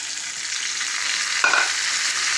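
Chicken karahi frying in a pan as a tomato, garlic, ginger and green chilli paste is stirred in, giving a steady close sizzle with a brief scrape of the spoon partway through and no talking.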